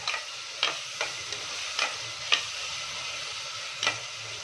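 Potato pieces fry and sizzle with ginger-garlic paste in a pan, a steady hiss broken by a few sharp clicks and stirring scrapes, close and fairly loud with no talking.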